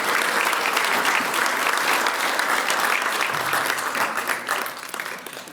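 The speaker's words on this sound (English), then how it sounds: "How about another round of applause for Gary Smith?" Sustained applause from an audience at an alumni awards dinner fills the room, holding steady and then tapering off slightly at the end.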